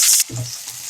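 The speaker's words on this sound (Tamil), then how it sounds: "2 வெங்காயம் பொடியாக கட் பண்ணி வச்சுருக்கேன்," Finely chopped onions hitting hot oil in a kadai with popped mustard seeds, a loud hissing sizzle that quickly settles into a softer steady fry, close up.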